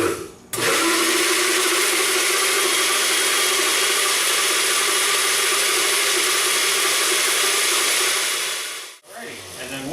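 An electric blender whirs steadily for about eight seconds, mixing milk and eggs into an ice cream base, a loud continuous motor drone that starts abruptly and cuts off near the end.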